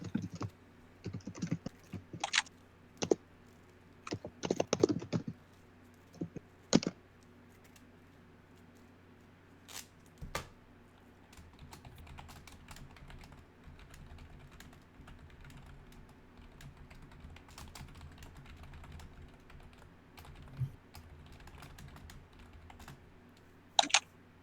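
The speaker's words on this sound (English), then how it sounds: "So much typing." Quiet, irregular clicks of typing on a computer keyboard come in short bursts and scattered single keystrokes, spread over a low steady background hum with long pauses between.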